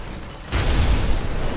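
Explosions from the video game Batman Arkham Asylum: a quiet lead-in breaks into a sudden loud, sustained rumbling burst with deep low-end boom and crackling debris, continuing without speech.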